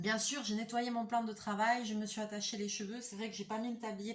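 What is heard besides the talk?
None of the usual background noises is heard.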